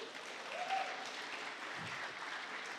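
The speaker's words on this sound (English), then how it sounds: "can we give them a round of applause?" Audience applause for mothers standing during a church service, a steady soft wash of clapping at moderate distance that holds evenly for the whole stretch without a break.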